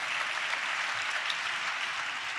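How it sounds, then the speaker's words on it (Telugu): Dense, continuous applause from a church congregation clapping in praise to Jesus, a steady wash of many hands heard at moderate distance with no talking. "చప్పట్లు కొట్టి యేసయ్యకు స్తోత్రాలు చెప్దాం."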